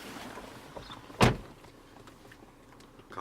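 The electric window motor of a Volvo XC60 2.4 D5 diesel hums briefly, ending in a single sharp thunk as the glass seats, close and quiet, with no talking.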